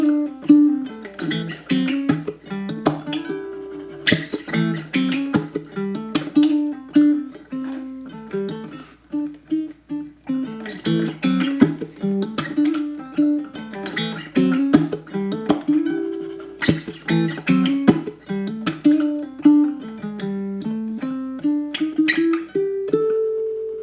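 A funk riff picked on a baritone ukulele, played alone with choppy, syncopated plucked notes and muted strums in a steady groove, close and clear with no talking.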